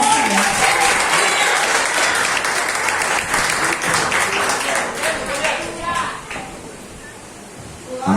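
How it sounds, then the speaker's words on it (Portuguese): A church congregation gives loud, sustained applause during an evening service, with dense clapping filling the hall and a voice speaking over it before the clapping thins out toward the end. "as palmas para o bom Senhor"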